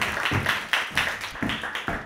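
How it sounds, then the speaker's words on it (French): Scattered hand claps from a small audience on a French comedy game show, irregular and fairly close, rising and fading in uneven bursts without speech. "on peut l'applaudir"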